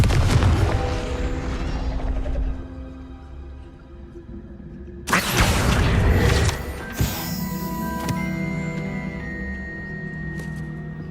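A Confringo fire spell explodes in Hogwarts Legacy with a loud boom near the middle, amid rumbling game effects and a low musical drone, then a couple of smaller bursts and ringing tones follow.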